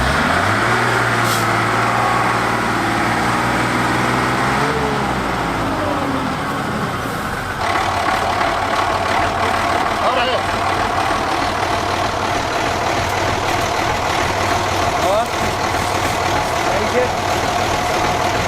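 A Star 266 army truck's heavy engine drones loudly and continuously from inside the cab, its low rumble shifting pitch as it changes gear, with people talking over the noise.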